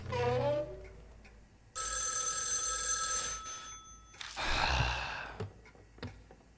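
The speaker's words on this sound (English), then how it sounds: "As we step into the room, the loud ringing suddenly stops." A loud electronic ringing tone in the horror video game Spirit Hunter: NG rings steadily for a couple of seconds and then stops, followed by breathy gasps and faint clicks.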